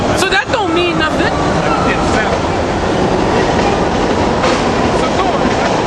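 A Bronx subway train rumbles past outdoors, a loud continuous roar with rattling wheels and metallic squeals, while people talk over the din.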